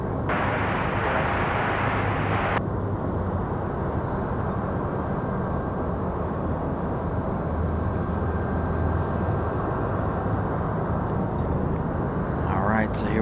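A heavy international airliner takes off from runway 23 right at Raleigh Durham airport, a loud, steady jet roar holding throughout, with a person talking over it.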